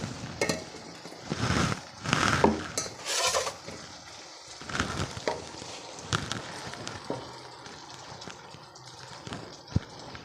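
Chicken and kachnar being fried and stirred in a pot, with irregular scraping and clanking knocks of a spoon against metal, clustered bursts separated by brief pauses, close by and without talk.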